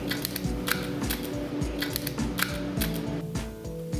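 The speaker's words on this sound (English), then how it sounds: "you can pull three keys at a time before ejecting them from the puller" A keycap puller pries off several keyboard keycaps at once, making a close run of sharp plastic clicks and snaps over steady background noise.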